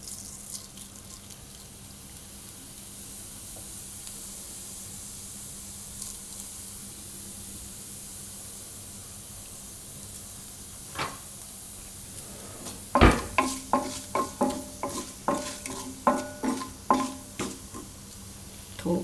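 Mustard seeds and cumin tempering in hot ghee: a low steady sizzle, then sharp close crackling pops that build in quick irregular bursts during the second half, with no talk.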